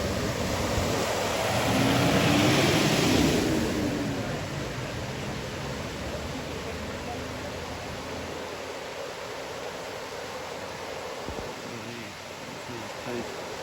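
A 4x4 wades through deep water at Cahills Crossing in Kakadu National Park, a continuous heavy wash and rush of water swelling early then settling into a steady roar, with wind buffeting the microphone.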